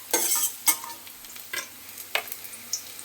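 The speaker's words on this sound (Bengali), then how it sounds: "দেখুন, করলাগুলো আমার লাল করে ভাজা হয়ে গেছে।" Bitter gourd pieces frying red in hot oil, with crackling sizzle and several sharp stirring clatters of a spatula against the pan, close and fairly loud.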